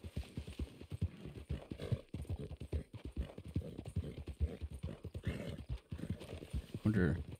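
Rapid hoofbeats of a horse galloping in the Red Dead Online video game, a steady near clip-clop rhythm running throughout with a brief whinny near the end, while a person talks over it.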